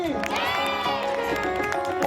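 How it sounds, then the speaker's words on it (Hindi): A crowd claps and cheers at a Ramlila celebration, dense applause mixed with shouting voices and a loud ringing whoop rising over the din. "जोरदार तालियां बजाएं।"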